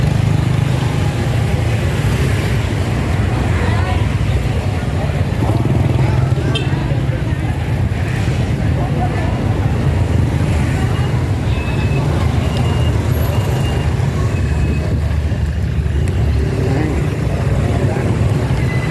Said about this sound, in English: Traffic is nuts.